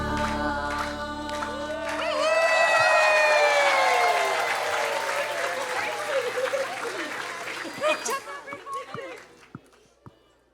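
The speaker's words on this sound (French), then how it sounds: "Can we clap our hands for them one more time?" A church congregation applauds a Sunday school children's presentation at a bilingual service. Clapping and cheering swell after a sung or held tone, then thin out into scattered claps toward the end.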